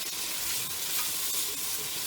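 Curry paste fries and sizzles in a big pot, a dense, steady hiss of crackling oil with faint scraping of stirring throughout, heard alone and up close.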